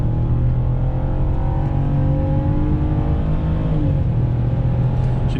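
BMW engine revving and pulling hard, a loud, continuous low rumble with a rising tone from inside the car on an empty rural road, no voices.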